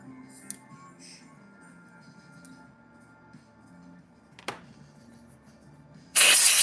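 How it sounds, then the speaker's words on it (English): A can of compressed air sprays a loud, steady hiss close by, starting abruptly after several seconds of quiet background with a couple of small clicks. "if you got a little can of compressed air, you can zap it and blow it right on out of there"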